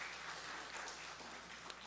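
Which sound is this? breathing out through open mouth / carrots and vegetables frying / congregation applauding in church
congregation applauding in church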